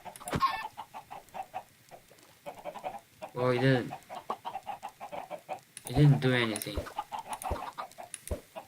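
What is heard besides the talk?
chickens clucking in a video game farm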